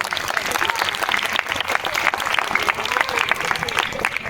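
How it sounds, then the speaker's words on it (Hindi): Loud, sustained applause from an audience at a Ramlila opening ceremony, crowd clapping dense and steady throughout with scattered voices mixed in. "इसलिए इन सभी कलाकार बंधुओं के नाम पे आप एक बार जोरदार ताली बजाएं।"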